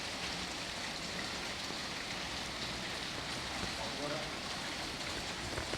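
Steady rain falling outdoors where pigeons bathe: a dense, even wash of raindrops pattering on surfaces, continuous and moderately loud throughout with no pauses.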